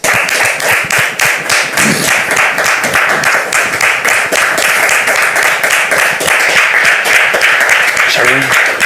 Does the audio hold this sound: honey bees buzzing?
no